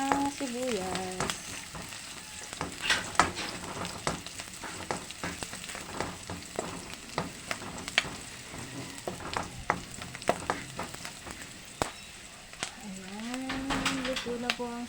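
Onions sauté in a pan for a Filipino pork and papaya dish, a soft continuous sizzle broken by scraping and stirring clatter, with occasional voice-like tones over it.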